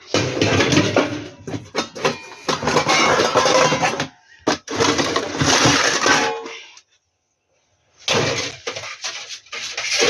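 Metal pots and pans clatter and clank repeatedly as they are stacked, dense and close, with a short quiet gap before more banging resumes.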